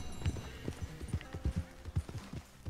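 Horse hooves clip-clop in Red Dead Redemption 2, a quick, uneven rhythm of soft thuds repeating steadily across the moment, moderately close over a faint ambient bed.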